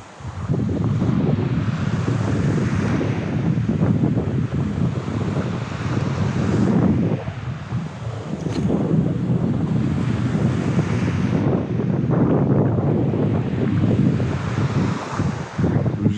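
Strong seaside wind buffets the microphone on an Aegean beach at Akliman near Çanakkale, a constant loud roar mixed with surf, continuing steadily with no talking.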